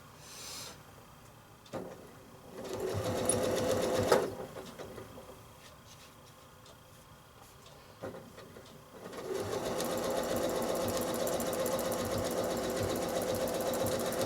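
Sewing machine stitching a nine-patch quilt block, running in two sustained bursts separated by quieter pauses with single clicks of the hand wheel turning the needle up and down.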